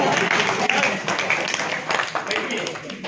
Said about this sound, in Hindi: आप यहाँ ताली बजाओ यार